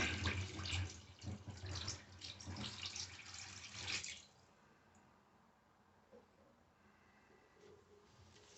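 Water pours and drains through a shower tray siphon during a drain speed test, a loud splashing flow for about four seconds before it drops to a faint trickle and gurgle.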